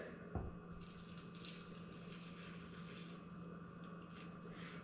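Liquid poured into a sourdough focaccia mixture, a steady soft watery trickle running continuously after a single small knock at the start.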